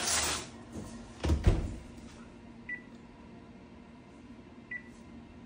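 A pan goes into a home oven with a couple of close clunks and a door thump early on, followed by quiet kitchen room tone and two faint beeps.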